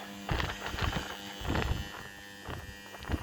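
A well water pump, lowered into the well on a cable, drones with a steady electric buzz and hum, punctuated by uneven bursts of rattling and gurgling.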